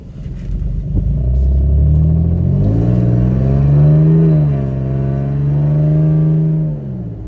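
A car fitted with a Manzo catback exhaust revs in sport mode. It is loud and close, with one deep rumble climbing into a sustained, rising rev that holds and then drops away, with no voices over it.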